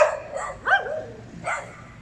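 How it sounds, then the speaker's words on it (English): Dogs bark a few times at an upscale house for sale in Alabang: three loud yips and barks close by, spaced irregularly over two seconds, with no talking over them. "Oh, they got some dogs over here."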